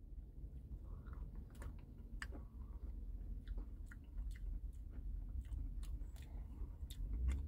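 Close, quiet chewing of a Dairy Queen cinnamon roll Blizzard with crunchy roll pieces in vanilla soft-serve, soft crunches and wet mouth sounds repeating steadily with no talk.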